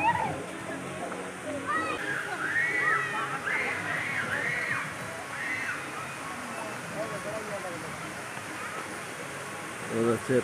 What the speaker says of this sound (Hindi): उधर से पानी निकल रहा है